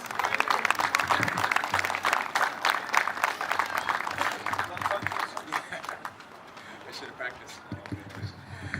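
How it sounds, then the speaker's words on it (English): Audience applause welcoming a speaker from the Small Business Administration, busy clapping that is loudest at the start and thins out over several seconds, with voices talking in the room underneath. "Give him a big round of applause."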